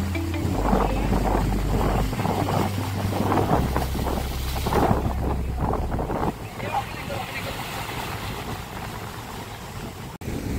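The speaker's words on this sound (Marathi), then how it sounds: "लाट आली बघ." Sea waves wash ashore at Uran beach in Navi Mumbai during rainy monsoon weather, a steady rushing surge with heavy wind buffeting the microphone and low droning rumble, while people talk nearby.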